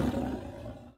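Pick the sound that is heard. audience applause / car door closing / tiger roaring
tiger roaring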